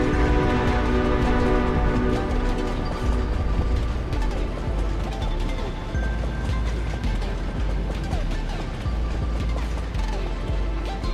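A train rolls steadily in the video game Motorslice, a loud, continuous rumble of wheels and clanking mechanisms with rhythmic clatter over the rails, close and unbroken throughout.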